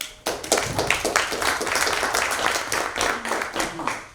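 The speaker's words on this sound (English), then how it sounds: "give a very strong round of applause" A burst of applause from a group at a creative and business development summit, dense clapping starting abruptly and continuing steadily, with some voices mixed in.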